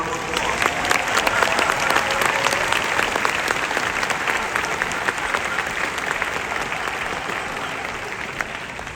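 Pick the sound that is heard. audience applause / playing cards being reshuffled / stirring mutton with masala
audience applause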